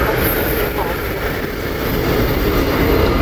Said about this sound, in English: we have a GWR 66 hauling a container train from London Gateway to somewhere up far and distant land